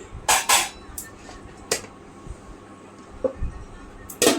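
A cooking pot of curry is handled in a home kitchen, giving several sharp metallic clanks and clinks spaced irregularly, fairly close, with faint background noise between them.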